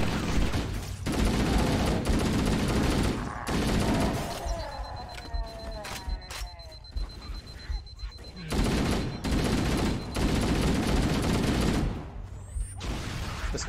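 A pistol fires in the video game Halo: Combat Evolved, in bursts of sharp shots at the start and again later. Quieter stretches with electronic tones sit between the bursts.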